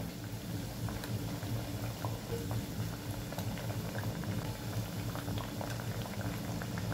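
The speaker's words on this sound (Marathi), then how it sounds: "मीडियम गॅसवर दोन्ही बाजूनी वड्या लालसर तळून घेऊया" Kothimbir vadi, coriander fritters made with bajra flour, fry in moderately hot oil over a medium gas flame, giving a dense, bubbling crackle with scattered pops that stays steady throughout.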